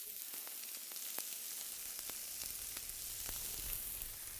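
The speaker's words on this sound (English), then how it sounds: "Okay, let that fry nicely now. And while it's sizzling away" A shakshuka base sizzles steadily as it fries in a pan, with a dense, even crackle and scattered sharp pops throughout.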